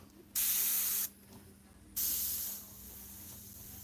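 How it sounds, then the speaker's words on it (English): An Iwata CM-SB airbrush sprays Createx paint in two loud, close hissing bursts of about a second each, with quieter spraying between and after them and no voices. "The airbrush."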